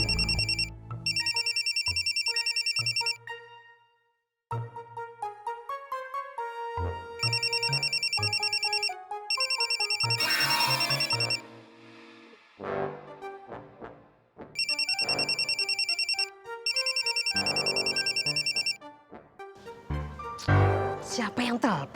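Phone ringtone in an Indonesian drama scene, a loud repeating electronic melody that plays in several bursts with short gaps, with voices talking between the bursts.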